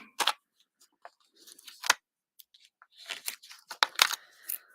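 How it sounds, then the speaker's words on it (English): Scissors snip through card stock in a quiet room, a series of sharp, close cutting crunches in irregular bursts separated by near silence. "I'm going to grab a pair of scissors and use this up"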